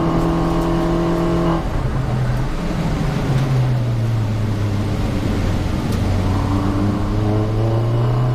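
A 2018 Mini Challenge Cooper S race car at Brands Hatch in the wet, engine heard from inside, revving high, dropping as gears change, then climbing steadily again as it accelerates, loud and continuous.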